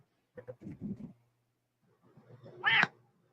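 Soft low murmuring, then a single short, high-pitched cat meow close by in an otherwise quiet room.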